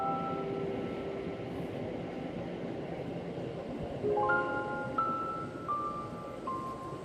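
Train rolling along the rails in an anime: a steady low rumble of the carriage runs throughout, with sustained tonal squeals and hums rising midway.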